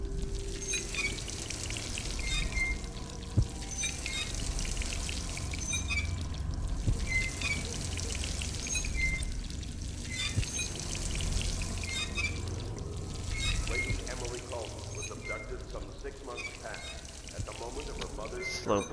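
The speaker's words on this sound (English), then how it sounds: "I gotta drink some water to heal myself." In the video game Dishonored, a character drinks water to heal, with a pouring, trickling water sound that runs steadily beneath someone talking throughout.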